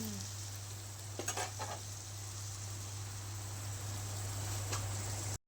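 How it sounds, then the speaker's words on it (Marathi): A tadka for khichdi sizzling in a pan of hot oil, a steady close hiss and crackle that runs throughout, with a few brief louder spatters near the start and a steady low hum underneath. "हा बघा मस्त असा तडका देऊन झाला या."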